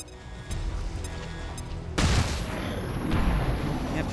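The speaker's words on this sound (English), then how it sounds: "I'm just gonna flashbang" A flashbang grenade bursts in XCOM 2 with a sudden loud, broadband blast that rings on into a sustained noisy wash, following a few seconds of steady game background.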